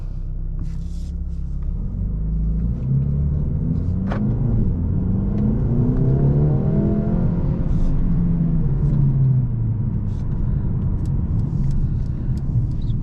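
A 2023 Mercedes-AMG CLA 35 coupe in Sport Plus mode accelerating hard from inside the cabin, engine rumble climbing steadily through the gears in a smooth, loud, continuous pull with brief dips at each shift.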